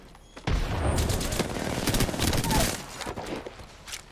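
Rapid gunfire in a shooter video game, a dense, loud burst of shots that starts abruptly and rattles on continuously for several seconds before thinning out toward the end.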